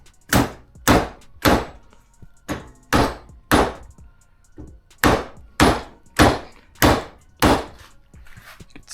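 A hammer strikes a bent brake line clamped in a vise to straighten it, a dozen loud, sharp metallic thwacks in a steady rhythm, close and alone.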